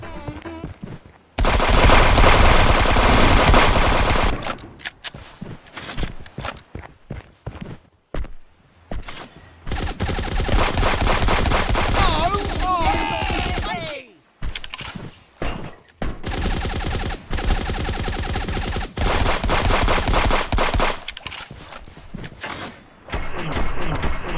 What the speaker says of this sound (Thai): ยิงไม่หยุดเลย